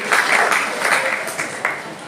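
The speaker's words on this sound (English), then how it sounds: "Big round of applause to him as well" Classroom applause for a student at a school AI program, a short burst of many hands clapping nearby, dense and fairly loud, fading slightly after two seconds.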